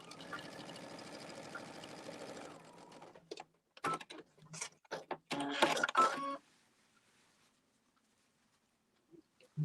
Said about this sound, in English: You sew down the middle.